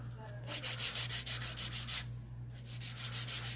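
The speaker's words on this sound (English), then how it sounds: "Now I'm going to use a 180 grit file." A 180-grit file shapes a gel nail in close, rhythmic back-and-forth strokes, about a dozen quick passes, a brief pause, then several more, all soft and steady.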